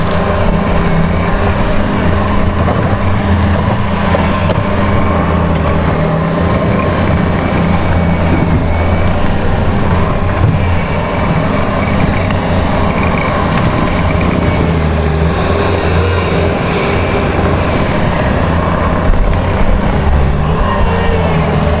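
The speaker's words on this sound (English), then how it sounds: "using compression compaction, they call it, just with a fully loaded skid bucket, going back and forth" A skid steer with a fully loaded bucket drives back and forth compacting leftover dirt at a pool demolition site, its loud, steady engine drone running continuously with no clear pauses.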